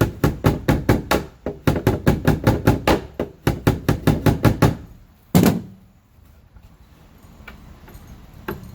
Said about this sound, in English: just use my hammer just a tad so I don't mess those threads up